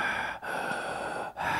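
A voice imitating a father's heavy breathing: loud, close, raspy, noisy breaths in long drawn-out strokes, broken by two brief pauses.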